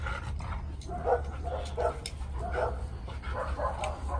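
Husky yipping and whimpering in short, close bursts over a low rumbling background, with no clear speech.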